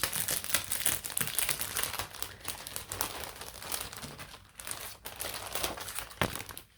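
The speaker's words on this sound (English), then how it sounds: "get out the plastic first, sorry." Plastic wrapping on a set of craft templates is pulled off and crinkled up close, a continuous crackling rustle with sharp crisp bursts throughout.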